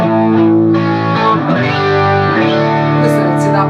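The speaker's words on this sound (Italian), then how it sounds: "Sentiamo il suono del pick up al ponte, dopodiché sommiamo il pick up centrale." A Red Special electric guitar playing with the bridge and middle pickups combined, a sustained, effected tone with distortion and chorus-like shimmer, loud and alone.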